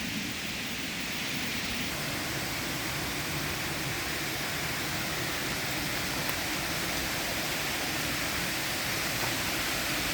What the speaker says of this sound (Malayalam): നമ്മൾ ആദ്യമേ കണ്ട വെള്ളച്ചാട്ടമാണ് ഇത് കേട്ടോ